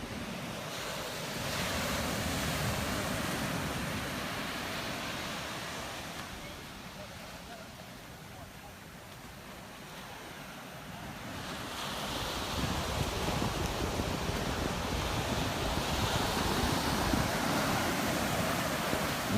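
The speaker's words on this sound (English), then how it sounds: "Waves are kicking up." Ocean waves break on the shorebreak at Kua Bay, Hawaii, in a continuous surging roar with wind noise on the microphone. It eases briefly in the middle and then swells louder again.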